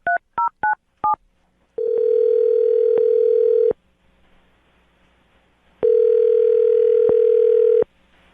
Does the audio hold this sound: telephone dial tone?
yes